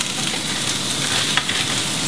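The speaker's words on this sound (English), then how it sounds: "saute the onions, shallots, and the mushrooms" Onions, shallots and mushrooms sauté in a hot pan, giving a steady, close sizzle and crackle with no talk.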